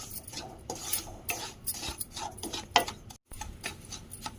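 Semolina (rava) dry-roasting in a pan, stirred with a utensil that gives repeated soft scrapes and light clinks against the metal, fairly quiet, with a brief silent gap near the end.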